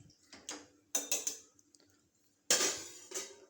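A metal lid set onto a pot of white mochai puli kulambu clatters in several sharp clinks and rattles, close by and fairly loud, with quiet gaps between the bursts.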